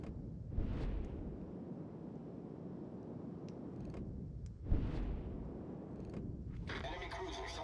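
Shell salvo strikes on the battleship Nebraska in a naval video game, a heavy explosive boom near the middle under a continuous low engine rumble, with lighter bursts around it and a person talking throughout.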